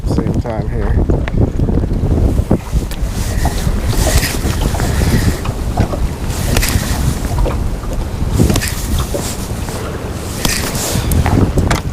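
Strong wind buffeting a fishing boat on open water, loud constant rushing and rumbling gusts with splashing throughout.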